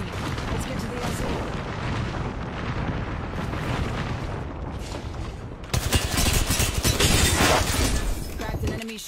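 Artillery barrage in the Apex Legends video game: a dense, continuous roar of explosions that grows louder and heavier partway through, with game voice lines talking over it.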